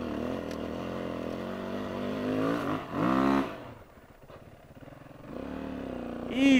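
An enduro motorcycle climbs a steep hill in second gear on a training ground, its engine revving and surging loudly, then dipping quieter before rising again in strained bursts.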